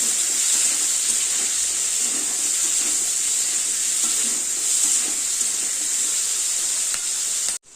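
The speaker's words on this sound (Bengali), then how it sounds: "এই সবজিটাকে ভালো করে ভাজা ভাজতে হবে" Small-cut vegetables fry in a pan for veg paneer, a steady close hissing sizzle with light stirring that holds evenly for several seconds before cutting off abruptly, no voices.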